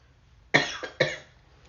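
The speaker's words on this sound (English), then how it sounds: "Oh no, now I'm starting to cough." Two sharp coughs in quick succession, close and fairly loud, with a quieter catch between them, then silence.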